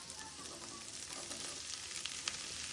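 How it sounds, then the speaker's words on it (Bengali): Boiled vegetables fry with chopped garlic in ghee in a pan, giving a steady, dense sizzle with faint crackles and soft stirring scrapes. "সবজিগুলো দিয়ে ভেজে নিতে হবে ঘিয়ের মধ্যে।"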